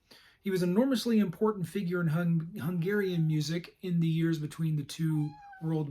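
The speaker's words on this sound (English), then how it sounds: "I happen to be sharing this room with a couple of cats, so if you hear a few stray meows here and there" Cats in a room give stray meows, including a short rising cry near the end. The meows sit under a person speaking steadily and close up.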